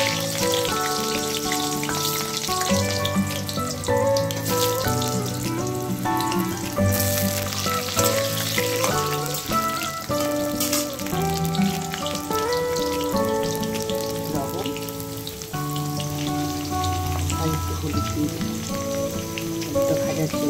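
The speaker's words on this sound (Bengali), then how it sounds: "তেল গরম হয়ে গেছে, এখন আমি আলুগুলো ছেড়ে দিচ্ছি।" Potatoes fry in hot oil in a wok, a continuous crackling sizzle like light rain that stays steady throughout, partly masked by melodic background music.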